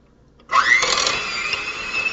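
An electric hand mixer starts up partway through and keeps running steadily, whirring as it beats raw organic honey into softened butter in a bowl, loud and close, with no talk.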